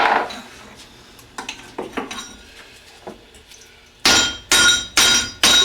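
A hammer strikes a wood block to drive a CV boot onto the axle shaft of a 2007 Mercedes 300D clamped in a vise: light taps at first, then four loud, evenly spaced heavy blows close by.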